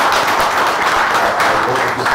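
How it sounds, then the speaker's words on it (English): An audience at a business class meeting claps hard, a dense continuous patter of many hands lasting about two seconds, fairly loud and close. "raise a hand in praise and clap hard for this 10th meeting"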